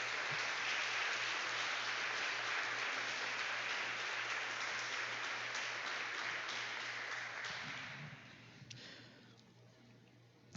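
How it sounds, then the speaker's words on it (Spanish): A church congregation applauds in a steady, fairly quiet wash of clapping over a low steady hum, dying away near the end to a few isolated sounds. "Denle un aplauso al Señor."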